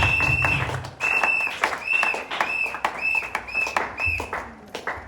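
Church congregation applauding together in a loud, close burst of clapping with scattered shouts and voices over it, swelling and fading in waves.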